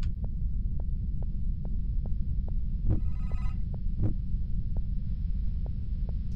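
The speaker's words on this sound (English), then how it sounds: "Okay, we got a phone call." A telephone rings inside a horror video game set in a haunted house, with repeated short ring pulses at an even rhythm over a low steady rumbling hum, plus a couple of louder bursts.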